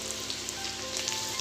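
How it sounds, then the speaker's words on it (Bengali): Chopped garlic and green chilli hitting hot oil in a pan give a brief, steady sizzle with light crackling, close by and without voices. "এবার এই তেলের মধ্যে রসুন কুচি দিয়ে দিলাম"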